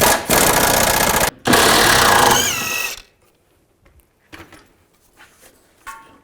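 A power tool with a 13mm socket spins out the drive shaft center support bolts on a 2010-2017 Chevrolet Equinox: two loud, close, continuous whirring bursts, split by a brief pause, then quiet scattered clanks of handling.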